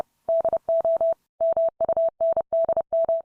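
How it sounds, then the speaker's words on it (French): Steady tone beeps keyed on and off in short and long bursts, spelling out "Manual do Mundo" in Morse code, loud and clean with brief silent gaps between letter groups and no talking. "Manual do Mundo en code Morse ressemblerait à peu près à ça."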